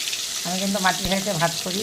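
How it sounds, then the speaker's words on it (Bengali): Fish fries in hot oil with a steady, close sizzle, while a voice speaks briefly over the hiss. "এখন কিন্তু আমি মাছটা দিয়ে দেবো, তেলটা আমার গরম হয়ে গেছে।"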